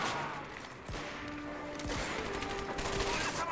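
Gunfire in Medal of Honor: Vanguard, Der Bunker mission: rapid bursts of automatic weapon fire with several sharp shots, dense and continuous over steady battle noise.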